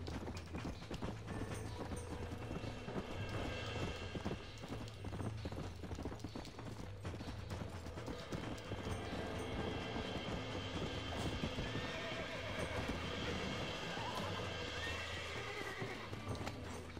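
In the video game Red Dead Redemption, hooves clip-clop rapidly in a galloping rhythm while a horse neighs, with a steady rumbling background, all at a moderate, somewhat distant level.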